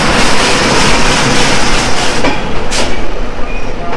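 Kaziranga Express rolling into Malda Town station, a steady broad rumble of rail cars and wheels on track, loud and continuous with a brief brighter hiss near the end, no voices.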